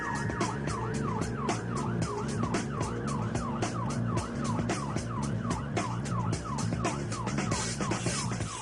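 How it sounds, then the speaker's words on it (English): A loud siren on an ambulance heading to an emergency wails in a fast, steady up-and-down pattern over rumbling road traffic, continuous and close throughout. "Ambulance crew Elisa Musselwhite and Stacey Smith are heading to an emergency"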